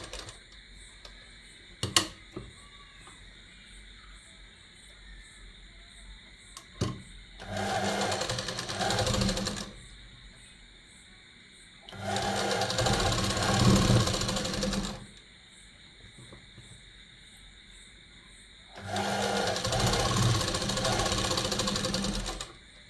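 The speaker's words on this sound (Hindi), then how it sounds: "ये दामन के ऊपर से हम एक सिलाई लगा रहे हैं। अभी एक ही सिलाई लगा रहे हैं" Domestic sewing machine stitching a single line along the hem of a men's kurta, running in three sustained bursts of steady whirring with quiet pauses and a few clicks between them.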